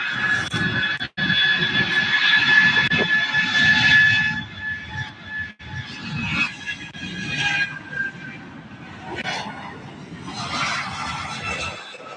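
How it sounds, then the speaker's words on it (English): A UPS jet rolling down the runway for takeoff at SDF airport, a broad engine roar with a high whine, strongest at first and then easing to a steadier rumble as it moves off. "rolling down the runway right now, we have UPS 2734 to Oklahoma City."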